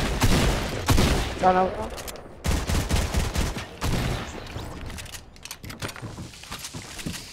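Gunfire in the Fortnite video game: rapid bursts and single shots crack loudly in clusters across the whole stretch, with a player briefly talking over the shooting.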